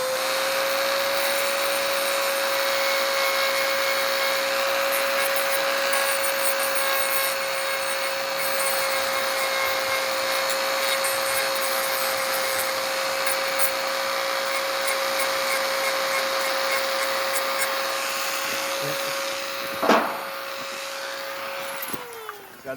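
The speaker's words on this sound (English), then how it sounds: "And then I'm just gonna take my Dremel." A Dremel rotary tool grinds on Glock 43 magazines, running at a steady high-pitched whine for about twenty seconds before spinning down, with a brief clack near the end.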